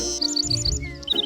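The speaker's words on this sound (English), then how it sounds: "That's a bird singing." A bird sings a quick series of bright, high chirps and tweets over a soft musical background, close and clear, with no speech.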